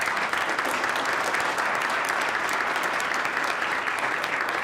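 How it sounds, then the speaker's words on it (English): An audience at a panel event with student entrepreneurs breaks into loud, dense applause that holds steady and close throughout, with no speech over it. "I just want to give them a quick round of applause."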